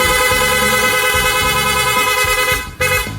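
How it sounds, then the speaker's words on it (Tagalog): A loud, blaring aftermarket Pia motorcycle horn sounds continuously up close for about three seconds, then cuts off with a brief click. "Grabe, lakas ng busina natin."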